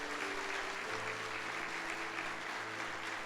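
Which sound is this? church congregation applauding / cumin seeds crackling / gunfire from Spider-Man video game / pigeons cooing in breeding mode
church congregation applauding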